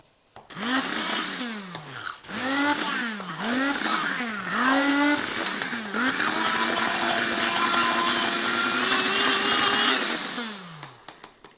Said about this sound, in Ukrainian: Дістаємо і збиваємо блендером знову.